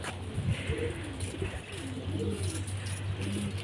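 Pigeons coo softly in a low, repeated pattern against a steady background hum outdoors, with faint chirps mixed in; no clear speech.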